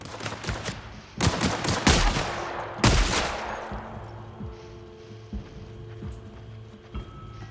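Shotgun blasts in the video game The Outer Worlds, several loud booming shots in quick succession with a long fading tail after the last, followed by quieter scattered impacts and a low hum.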